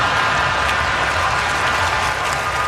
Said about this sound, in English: I don't believe that's real crowd noise.